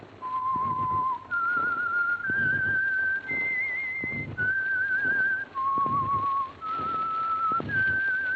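The whistled theme tune of the old-time radio show The Whistler, a melodic tune of sustained notes stepping up and down in pitch, clear and prominent over a low background murmur, without speech.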